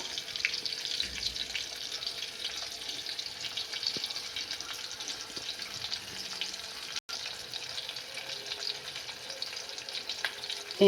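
Hilsa fish, lightly fried, cooks in a pan with coconut, mustard and green chilli paste, producing a steady faint sizzle and bubbling with occasional small clicks throughout, with no talking.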